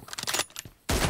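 Video-game gunfire crackles in a quick burst of rapid shots, a short pause, then another louder volley, all within about a second.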